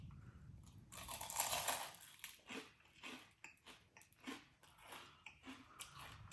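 Close, crisp bites into fried salt and pepper chicken wings, with a loud first crunch followed by a series of quieter crunchy chews at an uneven rhythm.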